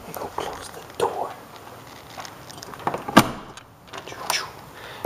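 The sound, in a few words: door being closed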